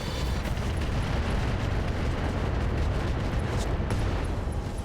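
Mech weapons fire in the RogueTech mod of the BattleTech video game, a loud, continuous roar of booming blasts and explosions that fills the whole stretch with no pause.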